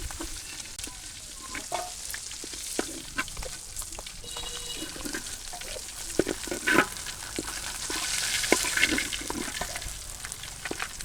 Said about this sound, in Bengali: এই কড়াইতেই পটল আর আলু ভেজে নিই